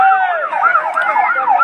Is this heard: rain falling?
no